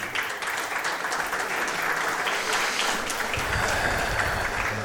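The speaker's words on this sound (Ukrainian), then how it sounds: "Чуємо оплески" A boxing-night crowd applauds throughout, a dense, steady wash of many hands clapping at moderate distance.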